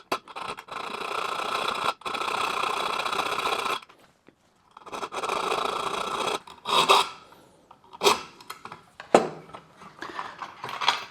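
Hand filing across the mangled top of a steel bolt to flatten it, steady rasping strokes in bursts with pauses, then shorter scraping passes, close and moderately loud with no talk.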